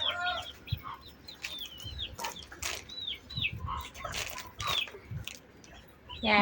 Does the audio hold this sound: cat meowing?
no